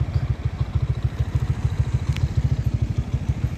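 A motorcycle runs by a roadside along the sea in Sarangani Province, its engine putting out a steady fast low thrum with a rattly pulsing beat that stays close and fairly loud throughout.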